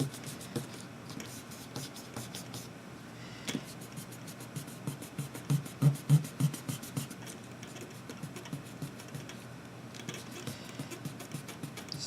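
A pencil scratches over paper while someone erases stubborn lines: a quiet, steady rasp of short strokes, with a brief burst of harder rubbing midway. The sound is close and there is no talk.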